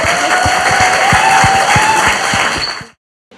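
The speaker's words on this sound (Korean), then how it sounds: "박수 부탁드립니다" Studio audience applauding at the close of a Korean comedy talk show segment, a dense steady wash of many hands clapping for about three seconds before cutting off abruptly.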